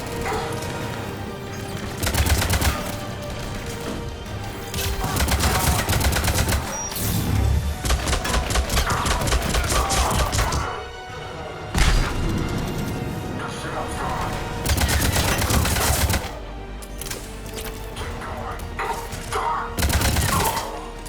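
Gunfire in the video game Mass Effect Legendary Edition during a firefight: dense, rapid bursts of shots and crashing impacts for about twenty seconds, with a short lull near the middle, loud throughout, with voices in the game shouting over it.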